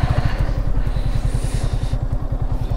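A Yamaha RX 100 motorcycle engine idles up close with a fast, even two-stroke putter and steady clatter, alone and fairly loud.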